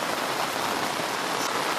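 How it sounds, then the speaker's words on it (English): Heavy rain pours down steadily in a dense, hissing wash of countless drops hitting surfaces, loud and unbroken with no voices. "It's raining rapidly"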